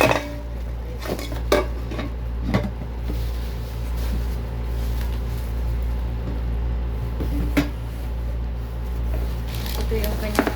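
Non-stick cookware from a ten-piece set being handled, with scattered metallic clanks and light knocks of pans over a low steady hum, while a person talks nearby.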